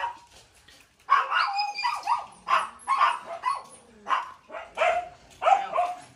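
Dogs at an ornamental dog kennel with Huskies, Goldens and Corgis bark and yip close by in a rapid, repeated series of sharp calls with short whimpering notes between them.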